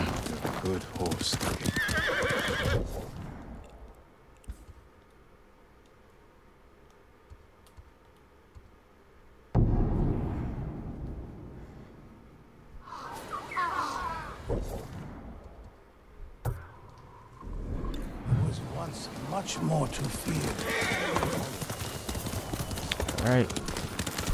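Rhythmic hoof clip-clops and a loud horse whinny in the video game Ghost of Tsushima, with keyboard clicks and stretches of quieter ambience between busier, noisy passages.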